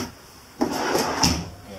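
A desk drawer in an RV bedroom slides open or shut with a short wooden scrape and a soft thump, close and brief, with no talking.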